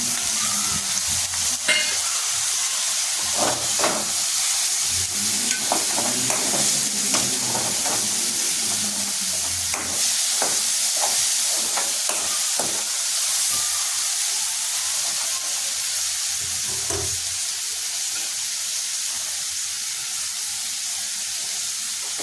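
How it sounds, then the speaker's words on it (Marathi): Chopped tomato with turmeric sizzling and hissing in a frying pan, a steady close frying noise with intermittent stirring scrapes over about twenty seconds, no talk. "आता यात आपण चिरलेला टोमॅटो टाकायचा."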